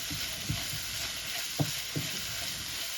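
Mustard seeds and fenugreek sizzle steadily in hot oil during tempering for a squid curry, a constant frying hiss broken by a few soft pops and stirring knocks.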